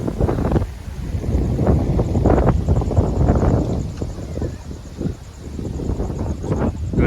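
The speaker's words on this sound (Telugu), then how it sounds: "ఇంత గాలి వస్తున్నాం మా ఇంటి దగ్గరనైతే చూడండి" Strong gusty wind buffets the microphone in loud, uneven rumbling bursts that rise and fall.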